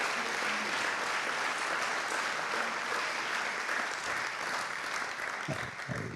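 Sustained applause from a conference audience in La Rochelle, dense steady clapping filling the hall for the whole stretch, with only a slight easing near the end.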